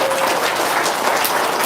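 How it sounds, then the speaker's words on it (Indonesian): A small indoor audience claps briefly and steadily at a gathering with a haji, a short burst of applause heard on its own. "Tuh, tepuk tangan dulu."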